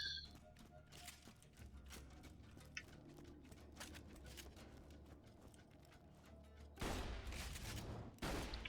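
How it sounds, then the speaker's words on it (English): A Bandit shotgun fires in Borderlands 2, its blasts landing as a series of spaced, moderately loud bangs with a couple of heavier booming shots near the end over steady game ambience. "I'm going to go outside to really shoot that and I'll show you."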